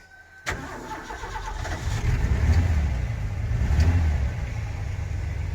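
A 1987 Ford F-150 pickup's 300 straight-six engine, needing a tune-up, cranks and catches, then revs up twice in rough, throaty surges before settling into a steady idle close by.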